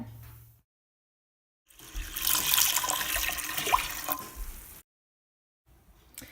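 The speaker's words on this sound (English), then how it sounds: "And then you want to add some water." Water pours steadily into a pot for a few seconds, a close, rushing splash that starts abruptly and stops, with quiet before and after.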